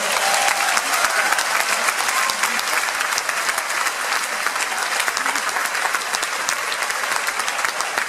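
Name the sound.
audience applause at a sports gala in a theatre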